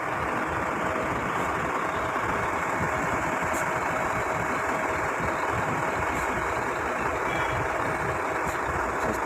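A concrete boom pump lorry's engine idles close by in a steady, dense rumble that holds level throughout, with faint high beeps recurring a few times above it and no one talking.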